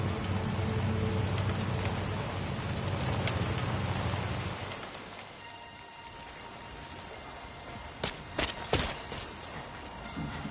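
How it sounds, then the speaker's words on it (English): Timefall rain in a video game pours down steadily for several seconds, then drops to a softer patter, with a few sharp knocks and thumps near the end. "Whenever I stepped outside, the timefall came."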